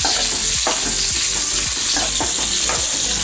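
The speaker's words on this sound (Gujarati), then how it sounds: "તમે જોઈ શકો છો સાતળવાનું છે ભીંડાને।" Whole okra sizzling in hot oil in a pan, loud and continuous frying hiss with regular scraping stirs of a spoon through the pods, close up with no talking.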